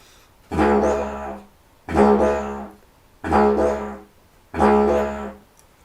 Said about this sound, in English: So if I do this with a continuous drone, it sounds like this.